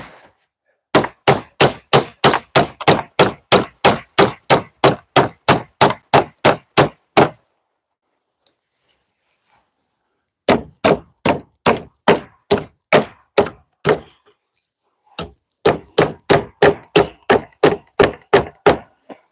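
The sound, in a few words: hammering a nail into wood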